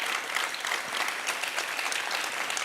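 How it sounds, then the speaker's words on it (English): Audience applause at a classical dance debut recital honoring the flautist, a loud, continuous wash of clapping throughout. "Please give a round of applause for our flautist"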